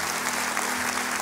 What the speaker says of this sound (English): I want you to clap your hands and say, God, I'm going to have my dreams revived.